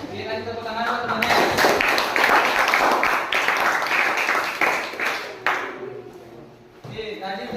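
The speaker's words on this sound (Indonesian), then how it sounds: "lagi tepuk tangan teman-teman" Classmates clap for a group presentation in a classroom, brisk scattered applause for several seconds mixed with voices talking over it.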